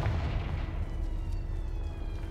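The Confringo explosion spell in Hogwarts Legacy lands as a deep, rumbling blast with a fading low roar. It is fairly quiet and alone.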